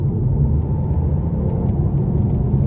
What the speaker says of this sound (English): it's still relatively quiet in the cabin even when I'm giving this car throttle.